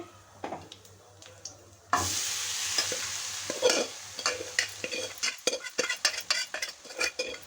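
Long beans palya stirred in a pan with the gas switched off, a burst of sizzle followed by a busy run of spoon scrapes and metallic clinks against the pan, close and fairly loud, no speech.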